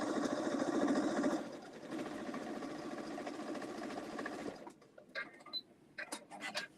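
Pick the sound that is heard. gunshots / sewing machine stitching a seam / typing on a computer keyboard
sewing machine stitching a seam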